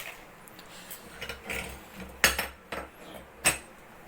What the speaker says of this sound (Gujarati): ડીશ લઈ લઈ ગાઈસ, આમાં નાખી દઈએ મેગી